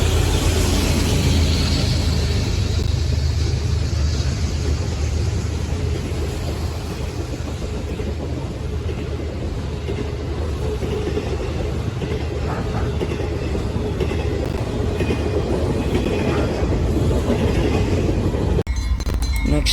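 Norfolk Southern freight train NS264 departing with a Union Pacific Tier 4 locomotive leading, a steady loud rumble of rolling cars with rhythmic clickety-clack and metallic clinks throughout, sustained and close.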